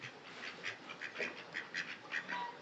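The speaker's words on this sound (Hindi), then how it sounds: "बतखों की मम्मी आ गई है बड़ी वाली" Ducks quack repeatedly in short, uneven bursts, fairly close by, with no talking, at a lake in Lansdowne, Uttarakhand.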